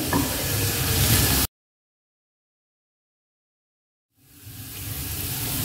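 Finely chopped garlic sizzling in a frying pan, a loud steady hiss that cuts out completely for a few seconds and then fades back in.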